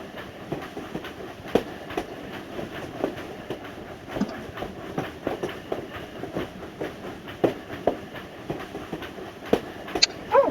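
A video game train rolls along its rails with a steady clickety-clack of wheels over rail joints, regular sharp clicks over a constant rumble, at moderate level with no talk.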